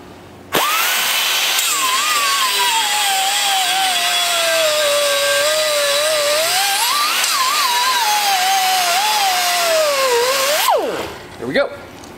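A 3-inch Norton Blaze sanding disc on a power tool spins up and sands steadily for about ten seconds with a loud high whine that dips and rises under load, then winds down and stops.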